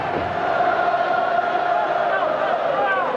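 A record stadium crowd at the 1993 college football game between Miami and Florida State sends up a steady, loud roar that fills the whole moment, with an announcer talking over it.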